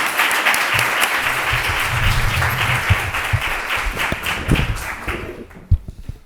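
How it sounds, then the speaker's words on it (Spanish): An audience at a Spanish talk on gene editing and a book presentation breaks into sustained applause for the speaker Lluís. The dense clapping carries through most of the moment, then thins out and fades toward the end. "un fuerte aplauso para Lluís"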